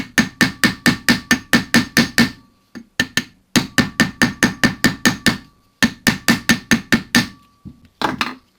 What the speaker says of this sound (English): Not coming out. Gentle tapping. Engineer's taps.